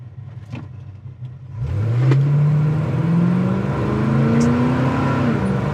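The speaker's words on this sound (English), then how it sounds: "I'm just going to put this in drive." A 1971 Oldsmobile Cutlass S shifts into drive and pulls away, its engine note rising steadily from a low idle into a loud, sustained acceleration with a climbing pitch close by.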